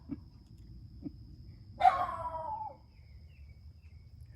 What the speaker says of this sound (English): my neighbor's yappy dog.